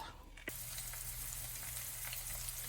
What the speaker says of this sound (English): in the pan we have our bell peppers frying